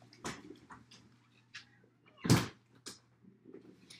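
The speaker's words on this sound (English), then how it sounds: "Let me close the door." A door is pushed shut indoors with a single firm thud in the middle, surrounded by quiet room tone and a few small handling knocks, with no talking.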